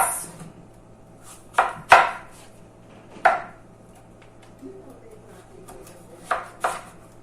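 A knife slices and cubes butternut squash on a cutting board in a kitchen, with several sharp, separate thunks spaced a second or more apart against a quiet background.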